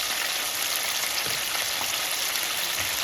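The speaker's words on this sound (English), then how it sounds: "It's just something about frying chicken." Steady, loud sizzling of chicken frying in hot oil, a dense continuous crackle with no talking.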